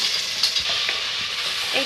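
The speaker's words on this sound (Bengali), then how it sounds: "এখন একটু ভালোভাবে নেড়ে চেড়ে নিতে হবে।" Chopped onions with ginger-garlic paste frying in a pan while being stirred, a steady hissing sizzle with scraping stir strokes, close and continuous, no voices.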